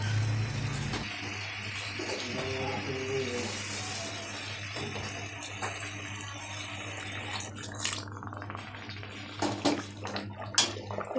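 Water poured gently into a pan of simmering Bengali chickpea ghugni, a steady wash of liquid with faint dripping and light clinks of the pot, heard close and continuous.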